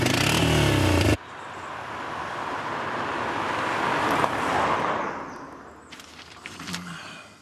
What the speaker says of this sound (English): I know how to ride a quad bike.